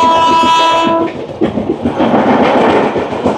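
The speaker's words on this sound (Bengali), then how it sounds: "এবার আমাদের সাথে ক্রসিং হবে শিয়ালদা থেকে হলদিবাড়ি দার্জিলিং মেলের সাথে" The Sealdah–Haldibari Darjeeling Mail crosses on the adjacent track near the Mahananda River, opening with a loud, close, sustained horn blast that cuts off into the heavy roar and clatter of passing coaches.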